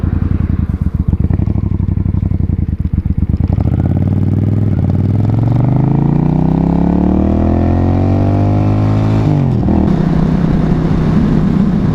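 An older motorcycle engine chugs loudly, then revs up steadily in pitch as it accelerates away, shifting gear near the end.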